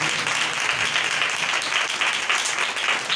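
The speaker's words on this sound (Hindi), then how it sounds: "जोरदार तालियां बजाते हैं।" A church audience at a New Year night service bursts into loud, sustained applause, a dense, steady wash of clapping from start to finish.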